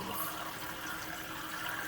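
Water gushes steadily from a tap into a pot of black beans, a continuous splashing fill heard close up and alone.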